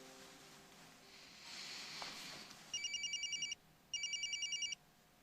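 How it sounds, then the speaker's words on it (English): Telephone rings twice in two electronic trilling bursts, clear and close, after a quiet stretch of low room tone with a brief rustle, no talk. "Your first phone call."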